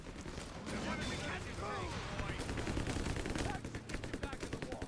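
Machine gun and rifle fire crackle in a World War II strategy game battle, dense overlapping bursts from near and mid distance, ending in rapid repeated shots, with a commentator talking over the action.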